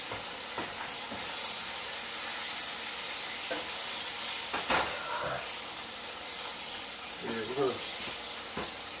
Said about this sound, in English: So you flip the fish and stir the beans.